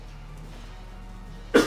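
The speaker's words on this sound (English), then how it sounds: "Having a bit of a cough." A single short cough bursts out near the end after a stretch of quiet background, close and fairly loud.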